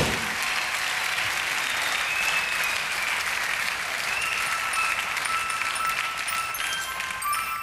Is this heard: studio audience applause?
yes